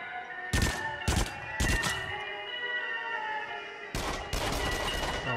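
Uzi fired in Until Dawn: Rush of Blood, several short rapid bursts close and loud, then a longer sustained spray of automatic fire over a steady game ambience.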